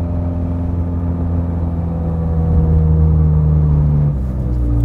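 A Ferrari 430 Scuderia with a naturally aspirated V8 and straight pipes hums steadily with a deep, loud, even drone, the pitch holding flat and then dropping slightly near the end.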